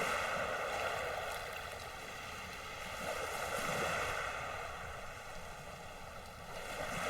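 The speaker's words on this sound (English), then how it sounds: "the splashes and gentle waves amongst pebbles" Gentle waves lapping and splashing among pebbles on a shore, a soft, continuous wash that swells and recedes, with faint wind noise and no voices.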